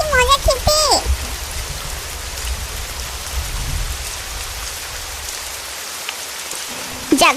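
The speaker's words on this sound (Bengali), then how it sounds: "কি সুন্দর বৃষ্টি পড়ছে ঝমঝম ঝম।" Heavy rain pours steadily in a cartoon, a dense, even hiss of falling water, with brief voices and bits of sound at the start and end.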